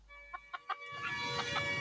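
Chickens cluck in a few short, distinct bursts, followed by a busier, noisier background with more clucks from a scene in the film City of God where a police car nearly runs over a chicken.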